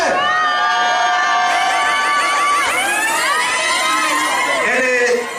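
A crowd at a diaspora awards night in Brussels cheers for the singer, loud and close, with high wavering shouts and ululating cries sweeping up and down over one another for several seconds.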